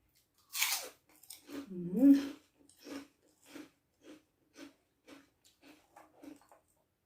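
Crunchy fresh squid in a spicy Thai salad being eaten close to the mic: a steady run of rhythmic crisp chewing crunches after a brief murmured voice.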